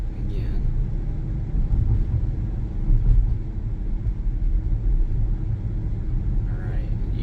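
A 2022 Long Range Tesla Model Y accelerating on Full Self Driving Beta gives a steady low road rumble and tire noise from inside the cabin, with no spoken words.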